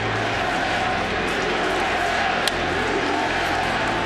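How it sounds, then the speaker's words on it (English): A large baseball stadium crowd roars and chants USA together, a dense, loud, continuous wall of voices with no pauses. "Got a chant of USA as the news goes through the crowd."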